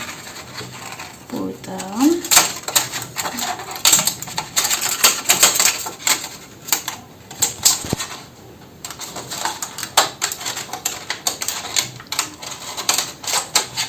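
Scissors snip through a thin plastic plate in a run of sharp, crisp cuts and crackling clicks, fairly close, with a few brief plastic squeaks between them and no speech.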